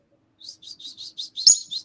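Close, clear chirping from a pet bird: six short high tweets in a steady rhythm, with one sharper, louder call near the end and no voices over it.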